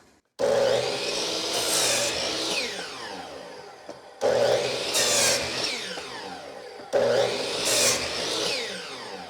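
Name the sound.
miter saw cutting wood powered by a Bluetti power station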